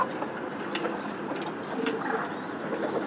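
Pigeons on a rooftop give soft, intermittent calls over quiet outdoor background, faint and a little distant, with a few brief higher chirps among them.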